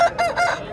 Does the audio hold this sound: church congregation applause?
no